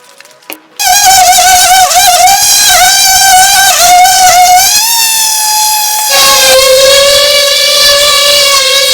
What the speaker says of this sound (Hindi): अब हम इसकी सैंडिंग करेंगे।